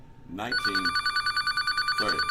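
A telephone bell rings in a rapid, steady electronic trill that goes on without a break, close and clear, with a voice speaking over the start and end.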